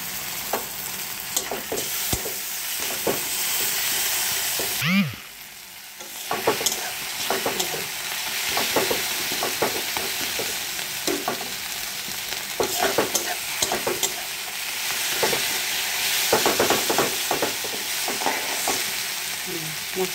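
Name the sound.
spice paste frying in oil in a wok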